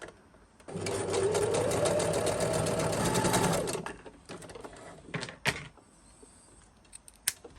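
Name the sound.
sewing machine stitching fold over elastic onto fabric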